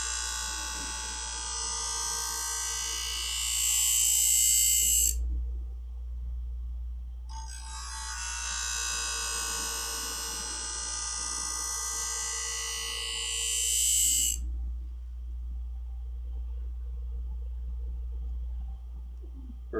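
A sharpening machine grinds a left-handed scissor blade in two long, loud, close bursts of high grinding whine, each lasting several seconds, separated and followed by a low motor hum.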